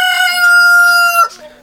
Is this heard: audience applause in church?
no